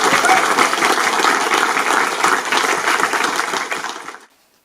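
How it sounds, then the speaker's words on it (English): A concert audience at a choral celebration applauds in a dense, steady wash of many clapping hands, holding strong and even for about four seconds before stopping abruptly into silence. "So big round of applause"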